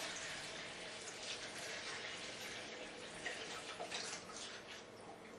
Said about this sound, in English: I'm going to top this off with a little more water.